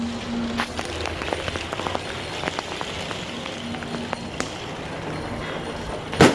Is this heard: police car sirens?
no